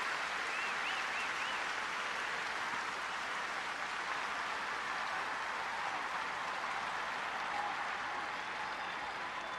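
A sold-out stadium crowd at Auburn, Alabama claps for an injured sophomore Auburn linebacker during a college football game against Ole Miss, a dense, sustained roar of applause that holds steady throughout.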